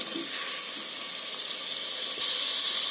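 Chopped tomatoes go into a hot pan of sautéed mint for vegetable biryani, and a steady, close sizzle and hiss continues with a slight surge near the end. No one speaks.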